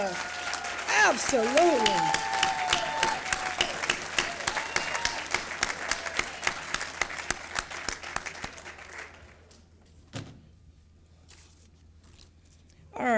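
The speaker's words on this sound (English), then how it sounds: "we just gave this great round of applause for these guys" An audience at a celebration-of-life music event applauds and cheers for the musicians, the clapping gradually thinning over several seconds before fading out to near silence with a voice briefly heard.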